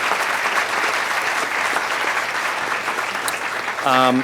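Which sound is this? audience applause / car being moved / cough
audience applause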